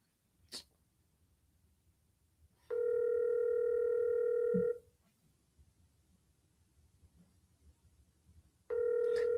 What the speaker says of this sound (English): Every time I try to answer when the phone's ringing, they end up answering.